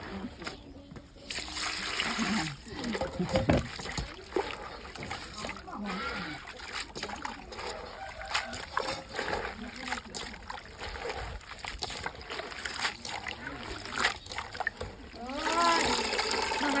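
Vegetables get washed in water for a rural Isan pickled-vegetable dish, with close, irregular splashing and sloshing as they are handled, under ongoing speech.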